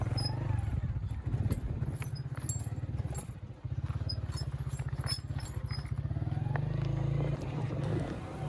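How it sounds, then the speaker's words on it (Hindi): Motorcycle brakes squeak after getting wet on a long-distance ride toward Fairy Meadows. Short, high, repeated chirps sit over the bike's steady, loud engine drone and road rumble. "बाइक की आप ब्रेक की आवाज़ सुन सकते हैं।"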